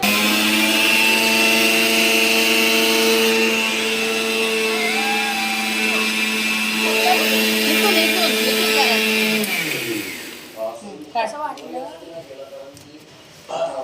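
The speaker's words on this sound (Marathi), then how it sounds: "हे मिक्सरमधून आपल्याला बारीक करून घ्यायचे आहेत" A mixer grinder grinds biscuits into powder, whirring loudly with a steady high whine for about ten seconds, then winds down, followed by clattering and handling sounds.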